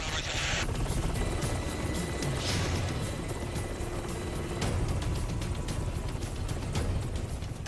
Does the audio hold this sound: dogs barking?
no